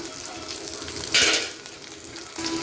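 Halved green chilies drop into frying onions, a steady sizzle that surges sharply for a moment as they go in, with light stirring and no talk.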